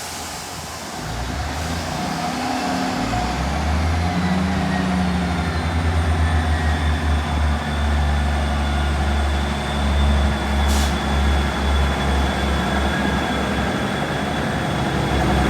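A Northern class 331 electric unit, number 331107, runs through Doncaster station on a service from Leeds, a loud sustained low rumble and whine of the train with clattering wheels building and holding throughout, with no voices.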